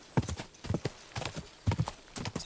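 A horse's hooves clip-clop in Kingdom Come: Deliverance II, a quick, uneven run of close, distinct thuds in small clusters, fairly soft and with no one talking.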